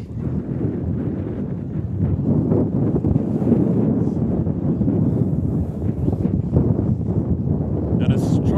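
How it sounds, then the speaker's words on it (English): Strong wind blows across an outdoor field during a women's ultimate frisbee final, a steady, loud, low buffeting roar on the microphone that lasts the whole time. "believe me, it is tough, it is windy."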